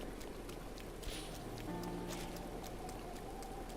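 Steady rain hiss in Breath of the Wild near Zora's Domain, a continuous even wash of falling drops with faint game tones and no talking.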